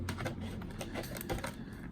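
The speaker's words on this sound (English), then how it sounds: "So I'm just cutting." Material being cut while designing a jacket, heard as a series of rough, rhythmic snipping strokes, fairly close and moderately loud, with no talk.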